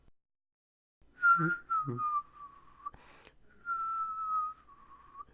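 A person whistles a short melodic tune in clear, sustained notes, close and fairly quiet, with a brief pause and a click partway through.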